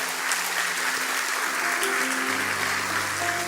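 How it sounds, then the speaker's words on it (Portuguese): Church congregation applauding during a Sunday morning worship service, a steady dense wash of clapping that carries on for several seconds while sustained tones from instruments or voices sound underneath. "Dê o melhor aplauso que você pode dar a Deus."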